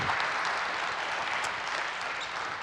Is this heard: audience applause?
yes